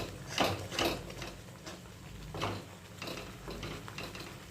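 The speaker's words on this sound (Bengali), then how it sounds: "এবারে দিয়ে দেবো সেদ্ধ করে রাখা মাংসটা।" Boiled chicken pieces go into a pan of chicken korma with some of the chicken stock and are stirred with a utensil, producing a few scraping, clattering knocks against the pan over a soft sizzle.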